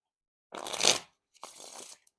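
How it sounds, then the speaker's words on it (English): Two quick riffle shuffles of Parisian Premium playing cards, each a crisp fluttering burst of about half a second, close up in an otherwise silent room. "They work fantastic still for the riffles and bridge shuffles"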